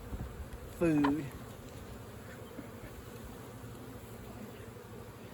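Honeybees at an open hive drone in a faint, steady buzz, with one louder bee passing close for a moment and a brief word spoken.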